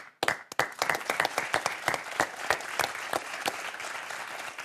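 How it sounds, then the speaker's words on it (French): A studio audience on the French TV word-and-number game show Des chiffres et des lettres breaks into applause, starting abruptly with crisp, distinct claps that settle into a steady patter, close and clear with no talking. "Applaudissements."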